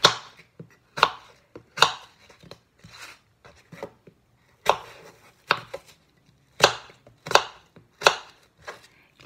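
A knife cutting a fresh apple on a cutting board, about a dozen sharp, separate chops in an uneven rhythm, close and crisp against near silence, with no voices.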